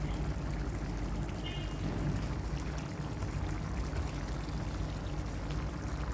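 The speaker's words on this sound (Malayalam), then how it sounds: "കുറച്ച് എണ്ണയും കൂടെ ഒഴിച്ചു കൊടുക്കുവാണ്" Oil pours into a pan of prawn roast, a continuous dense hiss and bubbling sizzle that holds steady from start to end.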